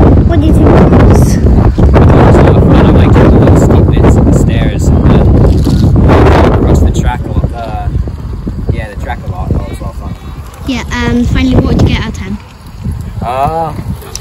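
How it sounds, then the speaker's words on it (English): Strong wind buffets the microphone in loud rushing gusts at a mountain bike race, easing partway through while voices talk and shout in the background. "Quite windy as well."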